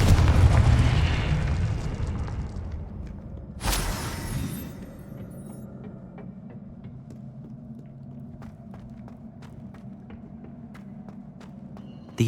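A Confringo fire spell explodes in the Hogwarts Legacy video game, a heavy rumbling boom that is followed by a sharp crack and a long fading tail of debris and ambience.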